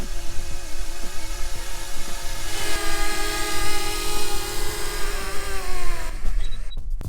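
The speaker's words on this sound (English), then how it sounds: "I'm bringing my drone down, I'm keeping the X right over my person because I'm going to hand catch my drone" A quadcopter drone descends outdoors toward a pilot who catches it by hand, its rotors giving a loud, close, buzzing whine whose pitch drifts and shifts before cutting off abruptly near the end.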